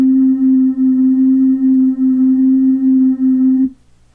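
A steady test tone from a Roland MT-200 sequencer playing through its chorus effect, one sustained pitched note held alone for several seconds before cutting off abruptly.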